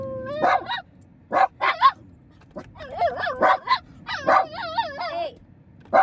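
A dog barks and whines in short close bursts, sharp yips mixed with rising and falling whimpers, clustered in uneven groups with brief pauses between.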